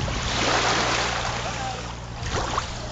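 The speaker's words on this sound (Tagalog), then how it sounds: "Yan, ang alon." Sea waves washing onto the shore at a beach resort in Laiya, a loud continuous rushing surf with swelling and breaking surges, heard close with no talk over it.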